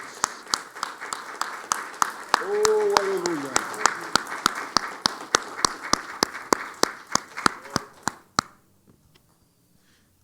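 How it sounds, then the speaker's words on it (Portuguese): Church congregation clapping in praise during a Brazilian evangelical service, steady rhythmic hand claps with a lead clap cutting through, a voice calling out briefly over it, then stopping abruptly into quiet. "Vamos aplaudir ao Senhor."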